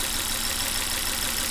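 A car engine with a suspected faulty ignition coil, misfiring and hesitating, idles with that coil unplugged, giving a steady close rough hum and rattle with no change over the short stretch and no speech.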